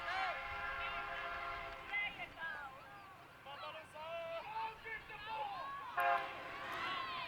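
A train rolls past near a baseball field during a minor-league game in Haysville, its horn sounding in sustained tonal blasts over crowd noise and announcer talk throughout.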